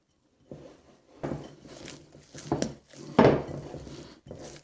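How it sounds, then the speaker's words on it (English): Soft, irregular thumps and pats of bun dough for Finnish cardamom korvapuustit being kneaded by hand with flour added, several separate presses and slaps with short quiet pauses between, close and fairly faint. "I knead the dough and add the flour from time to time."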